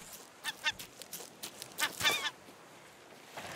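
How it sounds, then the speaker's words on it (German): Seagull calls in the survival game Raft, a series of short, harsh honking squawks in quick bursts over faint ambient background, with no talking. "Wir haben das erste Mal eine Möwe getroffen."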